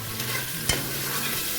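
Lentil peas are stirred into a frying oil mixture, giving a steady close sizzle with one sharp spoon clack against the pot midway, no voices.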